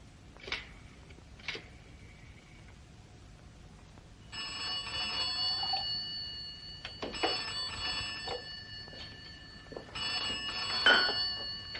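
An old telephone bell rings in several loud bursts, each a sustained metallic trill, after a few soft knocks in a quiet room, with no voices heard.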